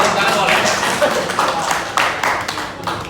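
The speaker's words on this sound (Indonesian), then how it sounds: "Tepuk tangan boleh, tepuk tangan boleh." An audience claps at the close of a teacher's presentation session, with a fairly dense burst of hand claps running through the whole stretch at moderate loudness.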